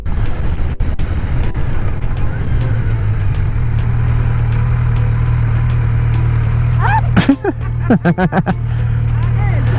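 A Kawasaki Z900 four-cylinder motorcycle engine hums in a steady drone throughout, with a brief burst of clattering and revving near the end, and background voices mixed in.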